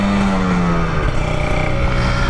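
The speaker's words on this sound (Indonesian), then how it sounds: "Ah, kita nyobain rem depannya nih." A Kawasaki Ninja 150 RR motorcycle brakes hard using a KTC 4-piston front caliper, with a brief descending engine tone and road roar, loud and close.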